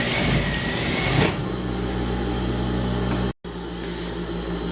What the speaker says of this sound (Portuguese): Eu vou só costurar aqui